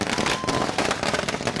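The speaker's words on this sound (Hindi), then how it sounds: "जमकर आतिशबाजी भी हुई।" Fireworks burst in dense, rapid crackling volleys during street celebrations in a village, loud and close, with continuous popping and booming and no pause.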